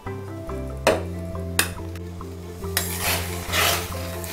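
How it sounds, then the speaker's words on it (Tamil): A spoon scrapes and clinks against a metal pan in repeated strokes, stirring semolina over a medium flame, with a few sharp taps and a steady hum behind. "கொஞ்சம் கொஞ்சமா ரவைய கிளறி விட்டுக்கலாம்"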